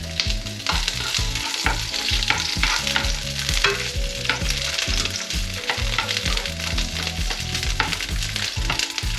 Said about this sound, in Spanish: Aceite calentito, le añadimos las tiras de pimiento.